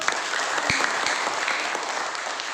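Schoolchildren in a classroom clap together for a classmate's answer, a dense continuous burst of hand claps filling the short stretch with a sharp louder clap near the start.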